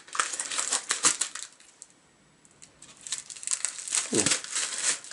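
A sealed mailing envelope of comic books is cut open, giving close, crisp crinkling and rustling paper sounds in two bursts separated by a brief quiet pause.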